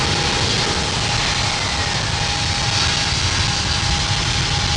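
An aircraft takes off from runway 27 left at London Heathrow, its engines a loud, steady, broadband roar that holds unbroken from start to finish with no voices.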